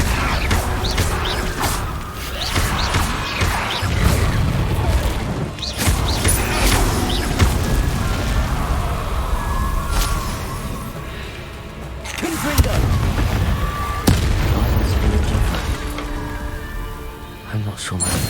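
Spell combat in the Hogwarts Legacy video game, with Confringo and Incendio casts bursting into loud crashes, booms and whooshes in a dense, continuous battle din while a player shouts over it.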